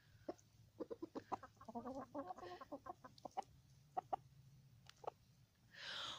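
Several chickens cluck in short bursts and warbling calls while walking around a Florida yard in freezing weather, the calls fairly close and scattered over a low steady hum, with a louder rustle at the end.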